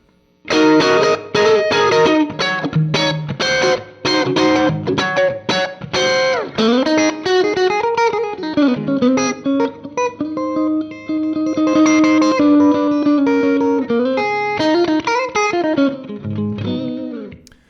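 Distorted electric guitar through a Fractal Axe-Fx II, with a tube screamer, plays a run of chords and then sustained melodic notes, drenched in a long, lush plate reverb that lets each note ring out.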